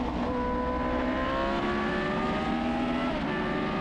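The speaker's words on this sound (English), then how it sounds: "Putting an F1 through the corkscrew, it's always hairy." A 1976 March 761 Formula One car at Laguna Seca's corkscrew, its engine a steady, loud, high-pitched racing drone with gear-held whine throughout.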